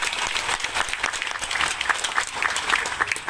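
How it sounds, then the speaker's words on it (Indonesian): Audience applause in an Indonesian hall during an Islamic religious affairs minister's address at the inauguration of a Christian theological institute in Kupang, a steady dense patter of many hands clapping, close and full throughout. "Tepuk tangan untuk Indonesia!"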